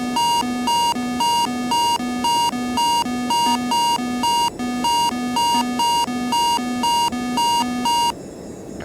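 Cabin pressurization warning in a home flight-sim cockpit: a loud, steady repeating electronic beeping pattern that pulses rhythmically for about eight seconds before cutting off.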